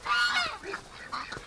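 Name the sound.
caught goose honking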